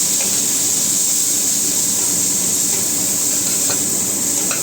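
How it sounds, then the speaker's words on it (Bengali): A steady, loud sizzling hiss of red and yellow bell peppers frying in butter, unbroken from start to finish, with no voices. "একটু ভাজা ভাজা করে নিচ্ছি"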